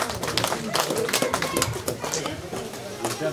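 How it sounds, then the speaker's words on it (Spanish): Family members clap hands together at a mother's birthday celebration, a lively patter of many sharp claps close by, mixed with voices talking and cheering over them. "¡Fuerte las palmas!"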